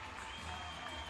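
Hockey crowd at a preseason North American Hockey League game between the Shreveport Mudbugs and Corpus Christi IceRays, cheering on its feet over a first-period fight, a steady dense roar heard from within the arena.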